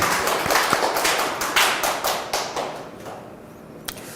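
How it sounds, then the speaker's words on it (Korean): A church congregation at a Wednesday intercessory prayer meeting claps together in a quick run of sharp, uneven hand claps that thin out and trail off toward the end. "우리 주님께 감사와 영광의 박수 올려드리겠습니다."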